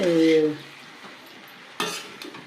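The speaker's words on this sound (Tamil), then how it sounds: "இப்போ இது வந்து நல்லா கிளறி விடணும்." A utensil scrapes and stirs capsicum and onion curry in a pan, with a close tonal ring at the start, quiet sizzling, then a sharp clatter of metal against the pan.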